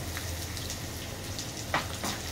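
Onions and green chillies frying in a pan, giving a steady, soft sizzle with light stirring scrapes near the end.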